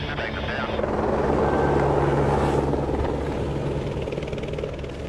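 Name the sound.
helicopter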